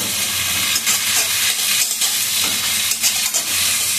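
Sauce poured into a hot frying pan over frying food, a steady loud sizzle and hiss with brief bursts as the liquid hits the pan.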